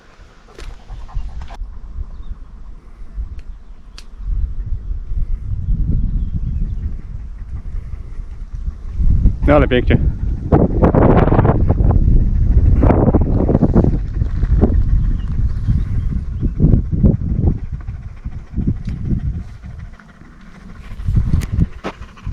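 Gusty wind buffets the microphone near the top of Skrzyczne peak, a rough low rumble swelling and easing in surges that grow loudest midway, with a brief spoken comment.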